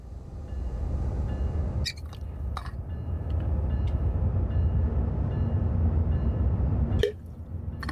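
An SD70ACE diesel locomotive in Train Sim World 5 pulls away from a stop with a steady low engine rumble, a few metallic clinks and a sharp hiss near the end.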